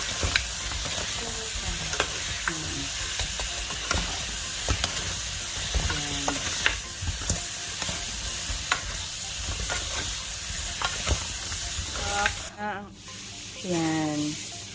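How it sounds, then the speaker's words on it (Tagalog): Honey butter chicken wings sizzle loudly and steadily in a hot pan as they are tossed and stirred, with a constant frying hiss and small scraping knocks. Someone talks over the cooking. "Ito-toss mo lang siya para lang ma-coat yung mga yung chicken."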